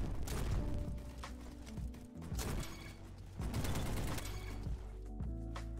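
Rapid gunfire rattles through a match of the Roblox shooter Bad Business, with repeated loud blasts, mechanical clacks and overlapping shots from a gun game round, dense and close throughout.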